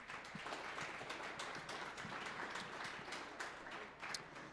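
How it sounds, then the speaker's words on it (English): A crowd applauding, a dense patter of many hands clapping steadily for a few seconds, heard from a distance and fairly faint. "How about a big round of applause to them?"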